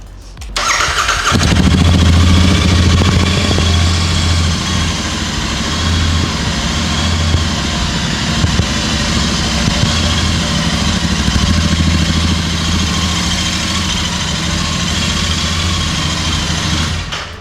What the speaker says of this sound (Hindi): तो ये हो जाती है आपकी मोटरसाइकिल की आवाज़।